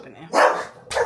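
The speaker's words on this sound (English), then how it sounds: "He's barking at Cooper." A dog barks loudly and close by, two sharp barks with a short pause between, at home while another dog is nearby.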